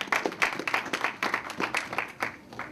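A church congregation applauds in unison, a steady run of dense, rapid handclaps that swell and ease over a few seconds, fairly close and with no voices heard.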